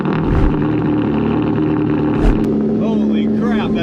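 A Mazda MX5 Miata's engine drones loudly and steadily from inside the car while driving, a close rumbling hum with a short surge partway through and voices talking over it.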